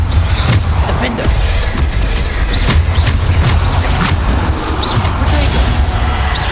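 Repeated Bombarda spell explosions boom in Hogwarts Legacy combat, several heavy blasts and crashes spread across a few seconds over a low rumbling game score.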